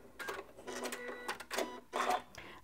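A Janome MC9400 sewing machine runs a straight stitch in several short, quiet bursts of rapid mechanical whirring, separated by brief pauses.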